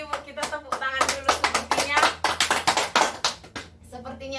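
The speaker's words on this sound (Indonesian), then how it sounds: "Kita tepuk tangan dulu" A group of women in an online training session clap their hands together in a quick, uneven patter, with a voice mixed in. The claps are fairly close and sit among chatter.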